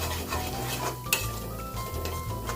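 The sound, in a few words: stirring spice mixture in a bowl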